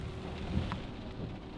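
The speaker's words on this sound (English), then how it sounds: "The rain's not gonna stop for probably another hour or something." Steady rain falls during the Costa Rica rainy season, a soft, even hiss of drops with a faint low rumble beneath, continuous throughout and without voices.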